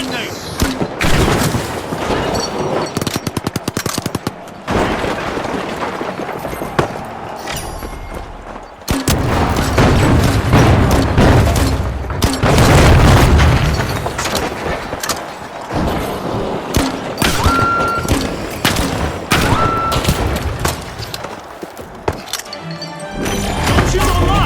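Explosions and gunfire in the shooter game The Finals, dense bursts of shots and booms filling the whole stretch, loud and near, with a brief drop in the middle and occasional voice under the action.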